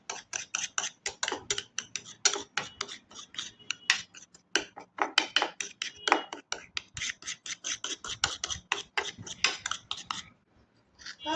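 A spoon scrapes and clicks briskly around a bowl, mixing a baking soda paste; rapid, close ticking strokes come in quick bursts with short pauses, and nobody speaks.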